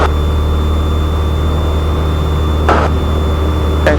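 A Piper Cherokee's single piston engine drones at full throttle through a takeoff roll, a loud, steady low hum with faint tonal whines and two brief bursts of noise.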